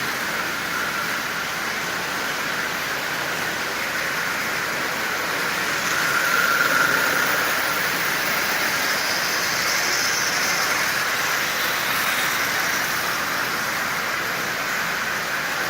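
Marx 999 toy locomotive pulling a long consist of 20 Marx cars around a layout, giving a steady, even whirring rumble with rail clatter that runs continuously and slightly swells midway, with no talking.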